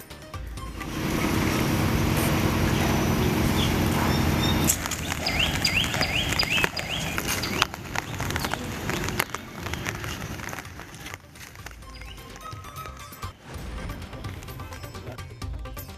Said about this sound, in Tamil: புதுச்சேரியில் இரவு முழுவதும் கொட்டி தீர்த்த கனமழை.